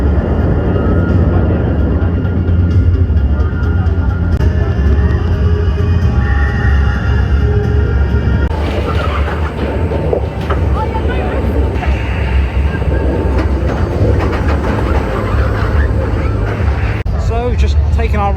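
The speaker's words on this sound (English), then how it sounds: "Just taking our ride on Hyperion after a very long wait." Hyperion roller coaster at Thorpe Park in motion, a loud continuous roar of track rumble and rushing wind throughout, with riders' voices and babble mixed in over the steady noise.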